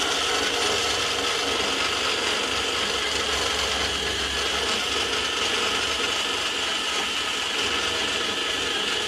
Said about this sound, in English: take this green disc, put that on there, and knock the surface down